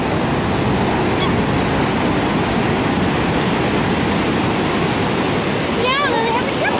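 Ocean waves at Stinson Beach, a continuous loud wash of surf and broadband water noise filling the scene, with brief high chirping voices near the end.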